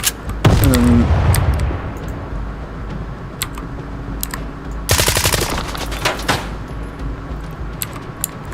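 Rapid automatic gunfire in the shooter game STALKER 2: bursts of shots crack out near the start and again in a dense volley around the middle, with scattered single clicks and clatter between them over a steady background rumble.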